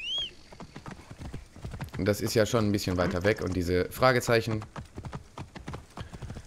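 Horse hooves clip-clop in Assassin's Creed Origins, a steady train of short sharp hoofbeats running beneath someone talking loudly throughout.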